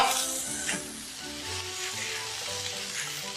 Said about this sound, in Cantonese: 另外喺鑊爆香葱頭蒜片，爆香之後落埋啲洋葱椒片落去，倒埋啲排骨